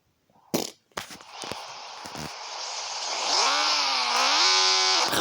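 A video game motorcycle engine buzzes and revs, rising in pitch and holding a whiny drone after a few sharp clicks at the start.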